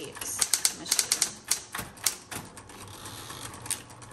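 A 1970s Smith Corona Electra 120 electric typewriter, metallic blue, types in quick irregular bursts of sharp close keystrikes that thin out toward the end, with the machine's faint hum beneath.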